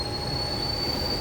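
A Tangara train at Waterfall railway station, heard as a steady loud rumble with a sustained high metallic wheel squeal, continuous and close throughout.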